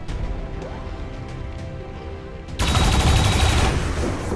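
Turret gunfire in the tactical game XCOM 2 arrives as a dense, loud burst of rapid shots. It follows a steady rumbling bed and carries on to the end with no voices.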